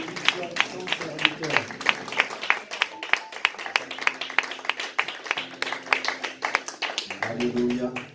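A church congregation claps to welcome a preacher, a fairly sparse, uneven round of hand claps under a voice speaking, with a low sustained tone or hum in places.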